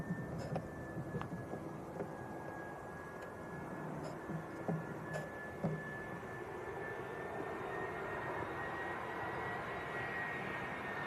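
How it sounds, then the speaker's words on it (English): An EasyJet Airbus A320 airliner arrives at Leeds Bradford Airport, a steady distant jet roar that swells gradually and fills the scene with broad rumble and a faint high whine, no talking. "A320 making its first visit to Leeds."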